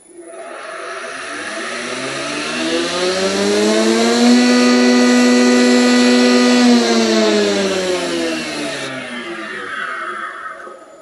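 A three-phase motor on a Kity 635/636 woodworking machine, run from a single-phase converter, spins up: a close whine climbs in pitch, holds a strong steady hum, then eases down slightly as it settles.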